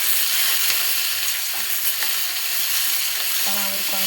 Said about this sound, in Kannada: ನೆಕ್ಸ್ಟ್ ಒಣಮೆಣಸಿನಕಾಯಿ ಚೆನ್ನಾಗಿ ಹುರ್ಕೋಬೇಕು.